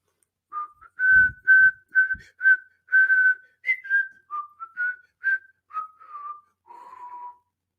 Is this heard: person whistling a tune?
yes